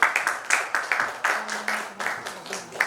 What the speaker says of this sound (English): Let's give a clap for all the participants.